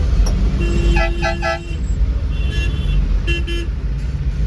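Heavy road traffic under Wakad bridge gives a low, constant engine rumble close by, with several car horns honking in short bursts and one longer blare over it.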